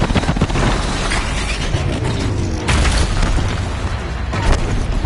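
Heavy crashing booms and rumbling debris from stone pillars and a platform collapsing in the Horizon Zero Dawn video game, a loud, dense roar lasting throughout with sharper bursts and impacts.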